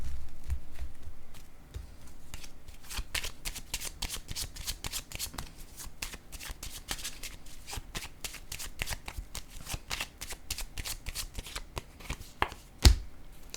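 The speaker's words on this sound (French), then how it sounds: "Je vais déposer une autre carte." Tarot cards are handled and laid down in a close, dry run of rapid flicks and soft slaps against a table, steady throughout, with one sharp tap near the end and no voices.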